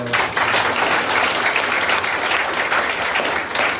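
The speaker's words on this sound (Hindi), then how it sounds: "हम जोरदार ताली बजाकर उसको" A church congregation claps loudly and continuously during a Hindi Bible sermon, a thick, sustained roar of many hands from start to finish.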